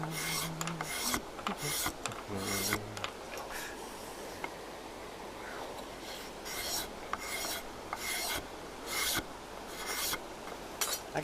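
A hand scraper shaving wood on a handmade instrument neck, repeated rasping strokes in uneven bursts with short pauses between them, close and fairly quiet with no talking.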